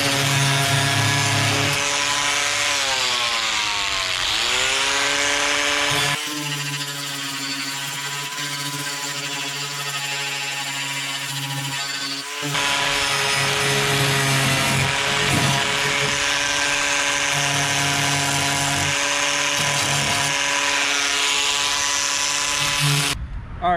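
A power tool grinds and saws through cracked fiberglass on a HMMWV hood, its high whine rising and falling with the load, briefly easing to a lower steady drone before cutting hard again, with no talking.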